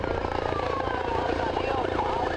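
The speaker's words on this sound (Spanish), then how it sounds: "Lanzarse desde el helicóptero es muy difícil" Helicopter hovering over the sea on a windy day near a small moving boat during a maritime boarding exercise, a steady loud rotor and engine roar with wind, continuous and close with no break.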